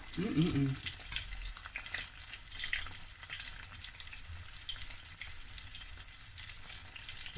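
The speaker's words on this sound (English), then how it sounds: "You want to just check it until the tofu fries are golden. Look at that bubble." Breaded tofu fries bubble in a pot of frying oil, producing a soft continuous sizzle and fizz with faint low rumble, fairly quiet and close, with no talking.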